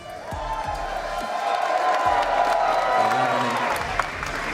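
Crowd at a Street Fighter League finals match cheers and applauds steadily, a dense roar of clapping and whoops that swells slightly toward the end, with a sustained tone and some announcer-like voice underneath.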